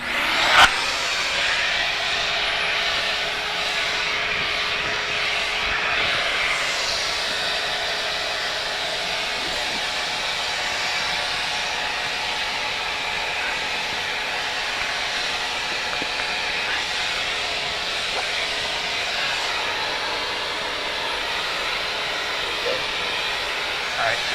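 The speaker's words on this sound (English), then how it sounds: "we'll go ahead and suction it down, and then we'll slide the cover on it, kill the vacuum, and it'll puff into place" A vacuum pump draws foam down for a Jeep Wrangler Defender kit installation, giving a steady, loud broadband hiss and whine that holds unchanged for the whole stretch, with no pauses.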